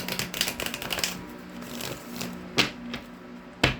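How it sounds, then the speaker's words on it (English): Tarot cards from a Hoodoo Tarot deck being shuffled, a quick run of dense crisp riffling clicks up close, followed by two sharper snaps as the deck is squared. "Let me get you some good shuffles in."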